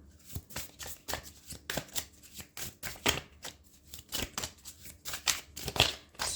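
A deck of tarot cards is shuffled by hand, producing a close, rapid series of riffling, slapping card sounds in uneven bursts, with no talking over it.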